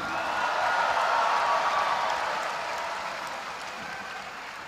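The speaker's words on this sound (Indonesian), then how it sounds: "Kok tepuk tangan lebih gemuruh kalau Teddy ini" A crowd of party cadres applauds at a presidential political speech in Indonesia, a dense, sustained roar of clapping that stays loud and slowly fades, with no talk over it.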